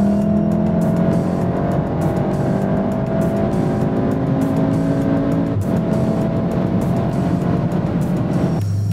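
Volkswagen Golf 7 R accelerating hard up a hill, heard from inside the cabin: a steady, loud engine drone with rising pitch, ending in a brief shift-like break near the end, no voices.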